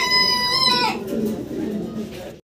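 Fancy pigeons at a wholesale pigeon sale call close by, a loud fowl-like call sliding downward followed by low burbling coos under a busy, noisy background.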